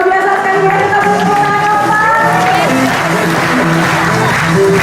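Applause from an audience at a business presentation, loud and continuous, with a voice talking over the clapping through most of it.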